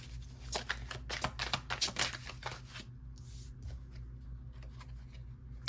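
Tarot cards shuffled by hand produce a close run of quick riffling flutters and soft papery slaps, dense for the first few seconds and then thinning into scattered light card snaps.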